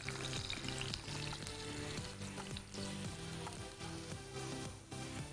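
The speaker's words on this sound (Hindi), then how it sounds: "ये हमने राइस पे तड़का लगा दिया" Hot oil tempering (tadka) crackles and sizzles steadily as it is poured over sabzi palo rice, with music playing softly in the background.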